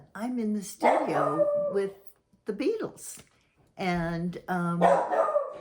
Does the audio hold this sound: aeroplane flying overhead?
no